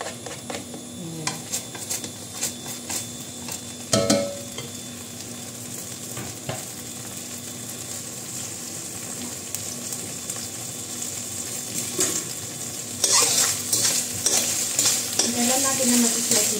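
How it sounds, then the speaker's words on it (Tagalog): Onion and garlic sauté in a pan with a steady sizzle, marked by a sharp utensil knock early on and scattered stirring scrapes, growing louder and busier toward the end, with no talking. "sibuyas at saka garlic. Pasok."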